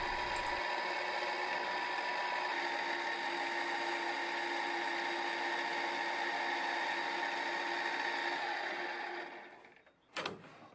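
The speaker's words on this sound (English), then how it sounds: "A hole at the end of the slot provides a stress reliever, and this is drilled first." A drill bores a stress-relief hole in a steel tube for a tilting trike frame, giving a steady, fairly quiet machine whine for about nine seconds that fades out and ends in a brief clunk.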